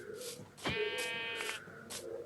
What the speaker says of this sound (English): Hello, Mr. Sheep of Grey Wool. You are going to die.